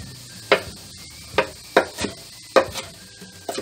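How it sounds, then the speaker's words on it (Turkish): Spinach leaves chopped by knife on a cutting board, a handful of sharp, separate cuts spaced irregularly about half a second to a second apart, close and fairly quiet with no talking. "Ispanaklarımızı da şöyle ufaltıyoruz."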